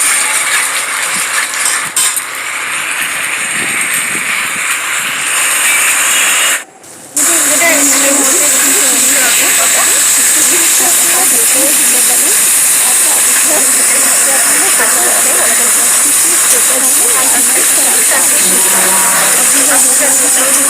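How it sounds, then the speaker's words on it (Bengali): Spice paste fries in a pan for a paneer dish, giving a loud, continuous sizzling hiss that cuts out briefly near seven seconds and then resumes, with stirring clatter and faint sounds underneath. "মশলাটা কষানো হচ্ছে"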